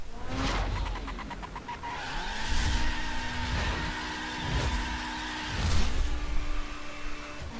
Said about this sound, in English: Here you have some spinning wheels and smoking tires.